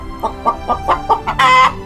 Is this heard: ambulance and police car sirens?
no